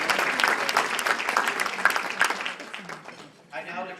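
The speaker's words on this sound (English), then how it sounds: "Now, a round of applause for Toledo." A room of people at a chapter officer installation claps in brisk applause that fades out over a few seconds, followed by a voice speaking.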